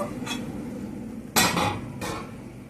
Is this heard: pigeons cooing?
no